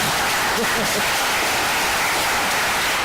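Applause from the crowd at a farmers' general assembly, a dense, steady wash of clapping that holds loud and even from start to finish, with no clear voices over it.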